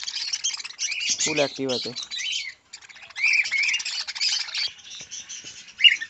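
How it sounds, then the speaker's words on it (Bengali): Lovebirds give harsh squawks and chirps up close, in bursts with brief pauses, while someone talks over them. "এখানে যে লাভবার্ডগুলো দেখতে পাচ্ছ,"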